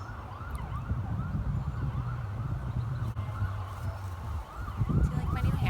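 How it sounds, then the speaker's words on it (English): An emergency siren alarm sounds outside, a continuous wailing, rising and falling tone heard through the walls at moderate loudness over low background rumble. "once that fucking alarm stops"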